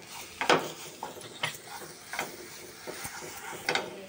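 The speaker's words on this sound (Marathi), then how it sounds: "वाटण केलं ना कांदा खोबरं आलं लसूण ते टाकते बघा. ते पण आपण असं परतून घ्यायचं." Ground paste of onion, coconut, ginger and garlic sautéing in a pan for crab curry, with a faint sizzle under scattered spoon scrapes and clicks, each stroke brief and spaced about every half second.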